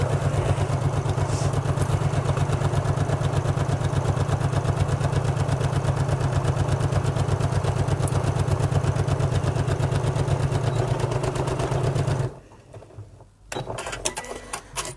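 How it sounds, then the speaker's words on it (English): A domestic sewing machine stitches the side seams of a fabric bag in one long steady run, its rapid needle rhythm constant and close, with a reverse at the end before it stops, then brief handling noise. "So I'm just going to sew down the two sides, making sure I reverse at the start and at"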